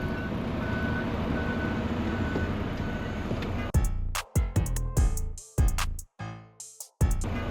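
A Volvo truck reverses through congested Brooklyn streets in New York, its steady reversing beeps sounding over engine rumble, then the sound cuts in and out in choppy bursts.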